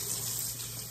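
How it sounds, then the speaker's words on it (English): A kitchen faucet runs steadily into a sink, rinsing greens and washing sand down the drain, a close, continuous hissing water stream with no breaks. "So what you do is get your faucet,"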